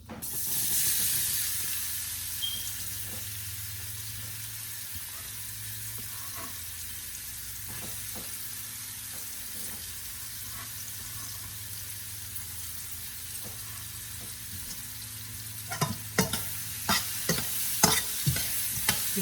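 Onions sizzle and fry steadily in a steel pan for an Indian bottle gourd kofta curry, a continuous broad hiss with faint scrapes, then sharper stirring clatter near the end.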